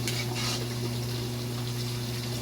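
Water running steadily into a cooking pot, a continuous wash of pouring liquid over a low steady hum, close by and moderately quiet, with no talking.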